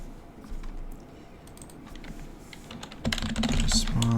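Rapid clicking of computer keyboard keys being typed on, soft and steady at first, then louder and busier bursts of keystrokes near the end, with no talking.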